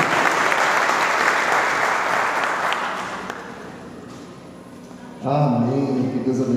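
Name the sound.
church congregation applause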